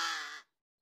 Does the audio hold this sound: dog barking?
no